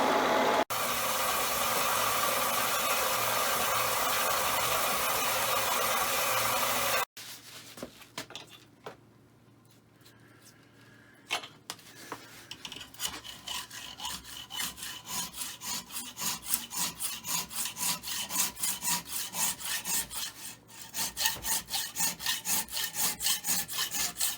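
Steady loud machining hiss at first, then a rhythmic back-and-forth rasp that builds in speed and loudness, the sound of metal being worked near a Myford Super 7 lathe while cross feed parts are made.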